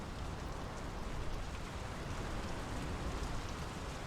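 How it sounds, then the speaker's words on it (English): Steady rain falling in the video game Draugen, a dense even hiss of drops on surfaces, constant and unbroken with no voices. "The rain's picking up."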